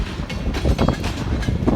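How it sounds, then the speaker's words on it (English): A freight train rolls past on a very windy day, its low rumble and rhythmic wheel clatter mixed with gusty wind buffeting close by. "I'll bet you 20 bucks there's a green Freddy on the back of this train."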